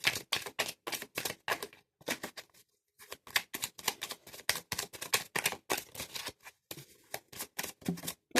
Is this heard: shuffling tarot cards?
yes